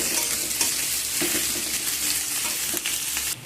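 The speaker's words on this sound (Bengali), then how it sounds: "পেঁয়াজগুলোকে একটু ভাজা ভাজা করে নেব, লালচে করে ভাজা করে নেব" Chopped onions fry in a pan with a continuous, moderately loud sizzle and crackle, with faint stirring scrapes and no voices.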